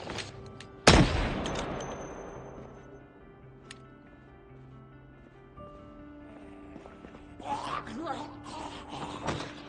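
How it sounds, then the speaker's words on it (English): A single loud gunshot cracks early in Project Zomboid gameplay, then fades into quieter in-game ambience and movement sounds, with a person talking throughout. "Standing still and shooting."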